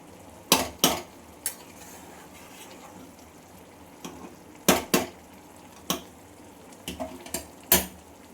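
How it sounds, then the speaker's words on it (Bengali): A spoon knocks and scrapes against a pan in sharp, irregular clinks while mango pickle is stirred in sugar syrup. A faint simmering runs underneath, with no talking. "এবার এটাকে আমি ভালো করে নেড়ে নেব। চিনির জলটা যতক্ষণ না শুকায় এটাকে ভালো করে নেড়ে চেড়ে করে নিতে হবে।"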